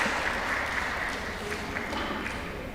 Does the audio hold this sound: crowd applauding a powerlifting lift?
yes